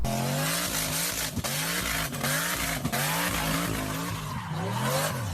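A Holden Clubsport with a six-speed manual and limited-slip differential spins its tyres, a loud engine roar under a continuous wavering tyre squeal with a few sharp bursts, heard close with no voices.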